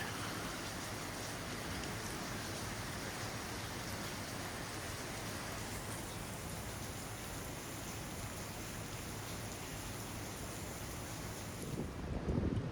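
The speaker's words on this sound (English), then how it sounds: "The wind's howling though." Strong wind roars steadily outdoors at Thredbo after rain, a broad rushing noise with gusts buffeting the microphone near the end.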